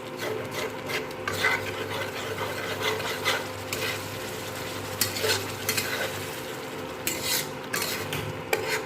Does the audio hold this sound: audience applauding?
no